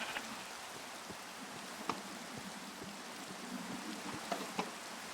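Steady quiet Minecraft rainfall hisses throughout, with a few faint clicks and taps on top and no voices.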